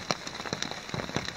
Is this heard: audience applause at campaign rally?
no